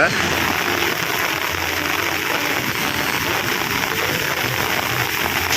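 Steady rain falls at the Mandaikadu seashore on a quiet Sunday, a constant hiss of drops mixed with distant surf-like wash, even and unbroken throughout.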